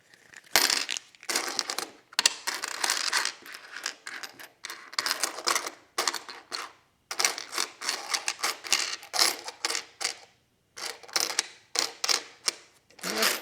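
Nickels from coin rolls are handled and sorted, giving a busy run of sharp metallic clinks and clattering bursts in quick, uneven clusters with short pauses between handfuls, close and fairly loud.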